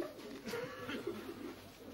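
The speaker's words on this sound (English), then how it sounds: "Pigeons!" Racing pigeons cooing in a loft, a soft, steady burbling over a busy background murmur.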